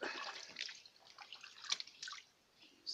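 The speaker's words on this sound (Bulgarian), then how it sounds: "Взимай вода и пръскай в легена" Water splashed by hand into a basin: a string of quick, close drips and splashes that come and go over about three seconds and fade out near the end, with no voices.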